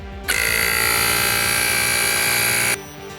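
A portable tire inflator filling a Tesla tire gives a loud, steady mechanical buzz with a high whine, switching on, running evenly for a couple of seconds, then stopping abruptly.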